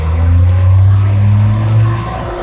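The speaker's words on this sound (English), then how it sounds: "we're going to rev the engine up to maximum RPMs again" Heavy machine engine revved hard toward maximum RPM while parked in neutral during transmission pressure testing: a loud, sustained low roar that swells and holds, close to the microphone.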